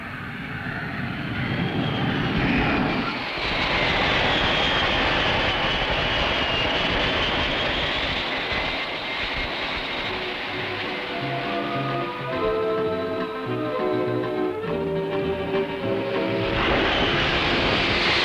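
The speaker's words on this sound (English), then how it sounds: "We'll take the Buccaneers on 2-wire, Mike." A Buccaneer jet aircraft lands on an aircraft carrier, a loud, sustained engine roar with shifting whine that swells and settles over many seconds.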